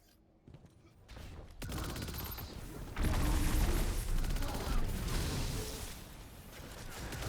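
Grenades and volatile rounds burst in Destiny 2 combat, a dense barrage of loud explosions that builds and stays continuous, no voice over it.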